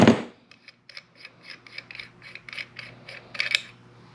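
Metal pliers working loose a fitting on a Victor welding regulator, giving a run of small rhythmic clicks and ratcheting scrapes, close and fairly loud, with a sharper burst of clicking near the end and no talk.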